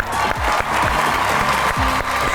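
Studio audience applause greets a guest, a comedian arriving on a talk show set, with steady clapping that fills the whole short stretch at even, moderately loud intensity.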